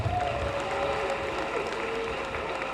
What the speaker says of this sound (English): I think WAPA deserves another round of applause.